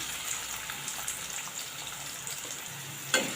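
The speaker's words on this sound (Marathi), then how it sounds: "आपण कांदा थोडा मऊ मऊ होईपर्यंत परतून घ्यायचा आहे" Chopped onion sizzles in hot oil with whole spices such as cloves, a faint steady crackle with small pops and one sharper spatter near the end.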